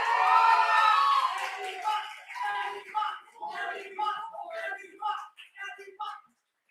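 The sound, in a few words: crowd cheering and clapping at award announcement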